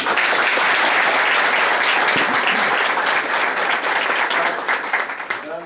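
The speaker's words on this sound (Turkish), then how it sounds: "Hepinizi yürekten alkışlıyorum." Dense, loud applause from a crowd at a political party thank-you gathering, sustained and even before gradually tapering off near the end.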